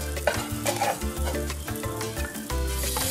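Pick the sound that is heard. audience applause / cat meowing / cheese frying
cheese frying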